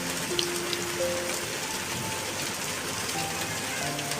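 Heavy rain pours steadily outside a village house, a dense continuous hiss of drops on surfaces with no pauses, loud and close throughout.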